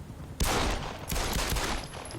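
A dense burst of gunfire from the video game Metal Gear Solid V, with rapid shots firing off in quick succession after a brief quiet start and continuing to the end.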